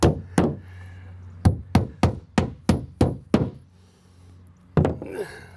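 Hammer driving nails through overlapping wooden shed siding boards into a stud, a series of about ten solid close thuds, mostly in a quick steady rhythm, with a pause before a final blow and a little rustling after.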